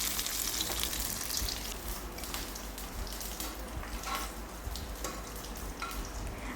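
Mustard seeds and dried red chillies frying in a small pan, a steady close crackling sizzle with faint pops throughout, no talk over it.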